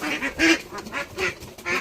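Ducks on a farm quack loudly and close by while being caught, a rhythmic series of about six raspy calls in quick succession.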